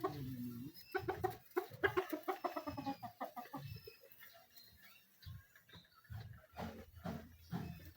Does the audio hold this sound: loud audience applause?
no